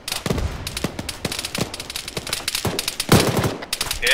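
Rapid gunfire in the Arma III combat game, a dense run of sharp automatic bursts and single shots cracking one after another at close to middle distance, with a louder volley near the end.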